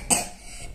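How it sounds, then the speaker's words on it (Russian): A boy gives a single short, sharp cough close by indoors. "как кашляет"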